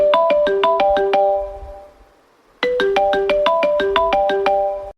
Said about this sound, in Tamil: அம்மா ஃபோன் அடிக்குதான்.